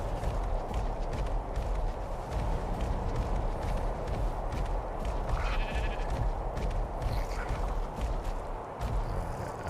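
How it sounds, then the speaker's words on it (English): Sheep bleating in the ARK video game, repeated bleats over busy footsteps and running game noise, fairly close and loud, with no talking. "I heard a sheep."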